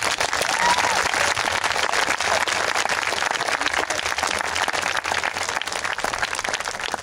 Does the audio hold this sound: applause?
yes